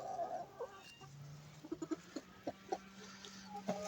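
Scattered clucks and short calls from farmyard fowl, fairly quiet, with some low background rumble and no voices.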